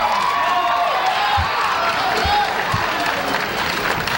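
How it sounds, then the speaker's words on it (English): A large crowd at an AAU Nationals amateur boxing bout cheers and applauds without pause, with whoops and a dense roar of clapping. "Listen to that crowd."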